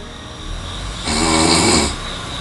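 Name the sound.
person snoring during sleep study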